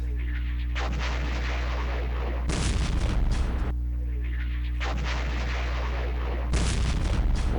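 Artillery guns firing in a World War II strategy video game, Campaign Series West Front: two repeated cycles of a mechanical whir followed by loud booming blasts over a constant low hum.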